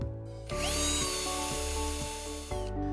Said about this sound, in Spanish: con una broca de 4 milímetros debo de atravesar el testero